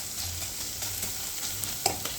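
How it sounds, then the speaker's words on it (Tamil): Onions and mushrooms sauté in a pan with a soft, low sizzle and intermittent scraping stirs, one clearer clink toward the end. "பாருங்க, இது இன்னும் கொஞ்சம் நல்லா இந்த வெங்காயம் வதங்கட்டும்."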